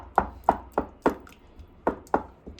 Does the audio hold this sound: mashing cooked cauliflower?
yes